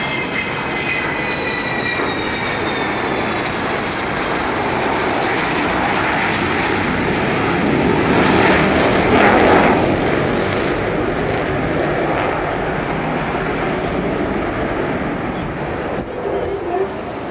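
The Avro Vulcan XH558 jet bomber, with four Rolls-Royce Bristol Olympus 202 engines, performs at the Bournemouth Air Show 2015. Its loud, continuous roar swells as the throttles open midway, then eases slightly.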